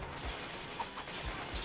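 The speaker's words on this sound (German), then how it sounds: "A group of men draped in black are unloading rounds into the building" Gunfire in the video game Trails from Zero, with men in black firing rounds into a building: a handful of dull, muffled bursts scattered irregularly across a noisy, rumbling background with no one speaking.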